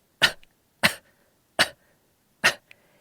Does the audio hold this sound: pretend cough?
yes